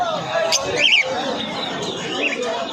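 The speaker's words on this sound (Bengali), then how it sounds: "লাভবার্ড দেখুন বন্ধুরা" Lovebirds chatter and chirp at a busy bird and pigeon market, with a few sharp calls standing out over a steady bed of crowd voices and market noise.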